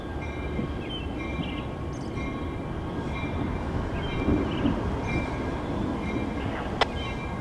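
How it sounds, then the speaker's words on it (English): A freight train rumbles steadily past over a railroad diamond crossing, with continuous rolling wheel noise, faint tonal squeals and a brief sharp clank near the end. "the 244 train heads east over the Diamonds and past the Spaulding local"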